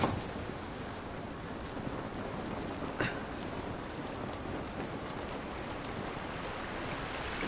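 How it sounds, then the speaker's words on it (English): Rain falls steadily in The Last of Us video game, a dense, even hiss of drops with a faint brief knock partway through and no voices. "It's raining"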